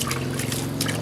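Liquid probiotic mixture is poured and trickled over straw being made into fermented livestock feed, giving a steady close splashing dribble for about a second with no talk.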